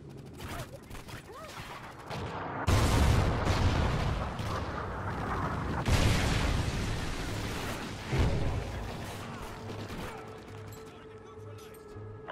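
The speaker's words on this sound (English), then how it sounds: "Friendly Trinity rocket inbound." Trinity rocket strike explosions in Call of Duty: Ghosts on a Strikezone map, heard as loud booming blasts with rumbling debris, stacked over steady gunfire, with major hits landing about every three seconds.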